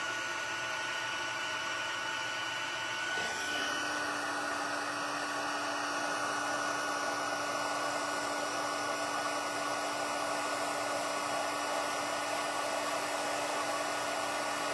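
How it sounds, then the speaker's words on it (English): A handheld heat gun blows hot air in a steady, loud whoosh, with a constant motor whine that climbs in pitch a few seconds in and then holds evenly without interruption. "I'm going to bring in my heat gun. Heat that up for a little bit first."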